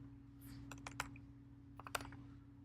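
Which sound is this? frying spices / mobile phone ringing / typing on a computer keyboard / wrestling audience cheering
typing on a computer keyboard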